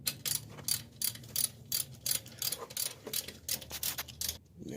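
Repeated rhythmic ratcheting clicks come in short bursts as the alternator bolts are tightened on a 2001 Chevy Blazer 4.3 4x4, close and clear with no talking.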